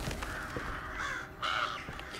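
A crow caws twice in the video game Alone in the Dark (2024), a loud close rasping call over a dark ambient background, with no talking.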